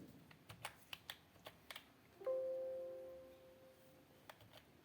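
Typing a book title on a computer keyboard for library cataloguing: a run of crisp, close, irregular keystrokes, then a brief tonal beep partway through, followed by a few more scattered taps in a quiet room.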